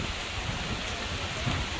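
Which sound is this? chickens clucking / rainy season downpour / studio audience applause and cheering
rainy season downpour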